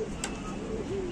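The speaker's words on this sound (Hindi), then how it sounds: "ये गाइस फुलसरा कबूतर है हम लोग का" A male fulsara pigeon from a home loft coos just after landing, a low, soft, rolling call heard near and alone over steady background noise.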